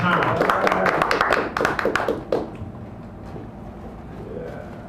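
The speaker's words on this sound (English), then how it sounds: "So give Garrett a good round of applause." Audience applause at a poetry reading in a San Francisco café, a burst of dense clapping with sharp hand hits that fades after about two seconds into quieter room noise.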